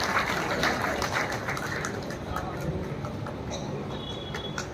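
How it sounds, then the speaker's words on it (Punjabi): Family guests clap to welcome visitors at a gathering, the applause louder at first and then thinning into scattered claps, with faint talk in the background. "ਇੱਕ ਵਾਰੀ ਜ਼ੋਰਦਾਰ ਪਰਿਵਾਰ ਵੱਲੋਂ ਅਸੀਂ ਤਾੜੀਆਂ ਮਾਰ ਕੇ ਇਹਨਾਂ ਦਾ ਸਵਾਗਤ ਕਰਾਂਗੇ"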